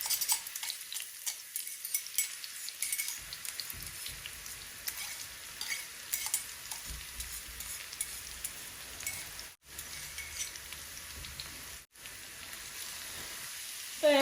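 Dried chillies, onion and garlic fry in oil with a continuous crackling sizzle, and scattered pops and spoon scrapes come and go over a quiet background. Two brief dropouts break the sound.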